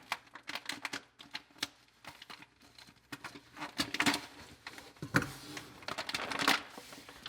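Dead yellow jackets dropping out of a cut-open wasp trap into a garbage bin, a quick irregular patter of small dry ticks and taps that thickens in bursts, with no talking.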